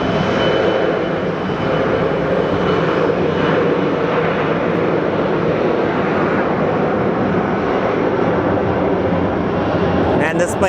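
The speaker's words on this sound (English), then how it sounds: "This plane is a workhorse." An airplane arriving or departing at Sky Harbor airport on a rainy day, a steady loud broadband engine roar that holds for the whole stretch.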